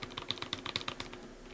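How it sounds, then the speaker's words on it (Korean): A mechanical keyboard with Melodic switches is typed on in a quick uneven run of crisp clacking keystrokes, close and clear, slowing toward the end. "멜로딕이라는 스위치를 사용한 키보드인데"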